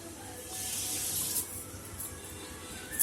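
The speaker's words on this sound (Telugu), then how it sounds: "ఇదిగోండి పిండిలో వాటర్ వేసాను" Water pours into flour in a steady, hissing stream for about a second, then trickles off into quiet.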